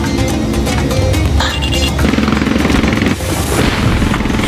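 Heavy cannon fire from an AC-130 gunship's 40mm gun in the Ace Combat Assault Horizon video game, a loud dense stream of booming reports over continuous engine roar and game music.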